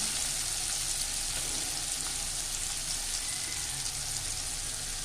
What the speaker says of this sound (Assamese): প্ৰথমতে পিঁয়াজখিনি দি মই এনেকৈ ধুনীয়াকৈ